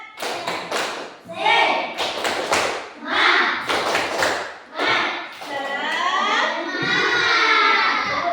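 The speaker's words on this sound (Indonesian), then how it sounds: "Yuk, tepuk semangat." A group of children performs a rhythmic spirit clap in a classroom-style session, bursts of patterned claps and thumps alternating with loud shouting and chanting voices, close and energetic.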